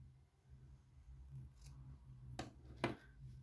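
Scissors snipping through knitting yarn while finishing the ties of a knitted pixie bonnet, two short crisp cuts near the end over a quiet low hum, with no talking.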